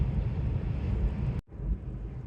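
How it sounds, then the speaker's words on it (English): Wind buffeting a hydrogen car cruising at about 70 on adaptive cruise control, a steady broadband rumble with a brief dropout midway before the roar resumes. "it's very windy."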